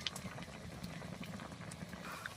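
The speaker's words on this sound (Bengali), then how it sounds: "এবার এরকম করে ফোটা শুরু হয়ে গেছে একটু ভালো করে ফুটিয়ে নিতে হবে" Golda prawn malaikari curry bubbles in a pan, a faint, steady simmer of small popping bursts, close and alone without talk.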